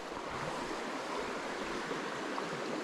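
A trout river in North Carolina flows with a steady, soft, broadband rushing hiss, continuous and even, with no voices over it.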